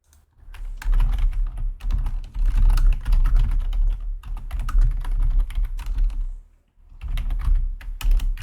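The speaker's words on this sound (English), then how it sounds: "Oh my goodness, typing" Rapid, continuous clatter of keys on a computer keyboard, close and steady, with two brief pauses between bursts of typing.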